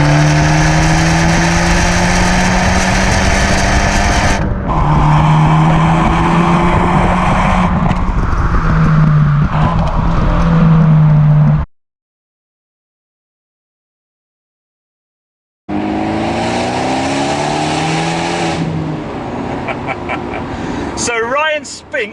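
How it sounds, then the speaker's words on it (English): Abarth 124 Spider exhaust note under acceleration on a tree-lined road, loud and close with rising and falling engine pitch, broken by a stretch of silence before a second pull. "the noise from that exhaust bounces off the trees"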